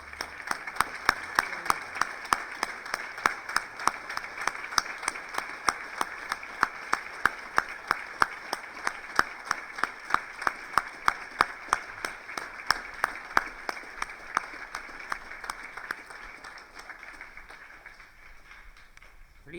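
An assembly audience at a school Friends and Founders event claps together in sustained applause, a dense steady patter of many hands with sharp individual claps standing out, gradually thinning toward the end.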